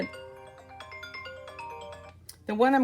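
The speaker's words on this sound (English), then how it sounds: "sorry about that phone call" A mobile phone ringtone for an incoming call bursts in loudly at the end, a bright warbling melody that follows a stretch of soft, steady background tones during a papercraft demonstration.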